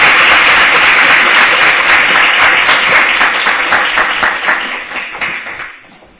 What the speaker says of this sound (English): let's give a rounding applause to Maisie